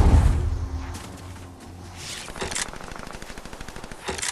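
Bursts of automatic gunfire in the Fortnite video game, a rapid rattling series of shots that starts near and heavy, then turns to lighter repeated fire with a couple of sharp louder blasts.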